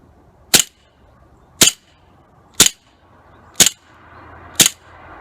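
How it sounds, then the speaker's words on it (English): A Remington 1911 RAC pistol is dry-fired with the slide catch held down: five sharp, crisp snaps, evenly spaced about a second apart, close by with near silence between them. "I'm just gonna give a couple of quick firing shots holding down the slide catch"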